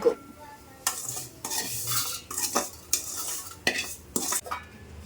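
Dal roasting dry in a pan for sheer khurma, a spoon scraping and stirring in repeated strokes with metallic clinks against the pan over a faint sizzle, close up, no talking.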